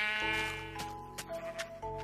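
A Minecraft sheep bleats in short, nasal, buzzy calls, a few in quick succession, close and clear against a background of steady game music tones.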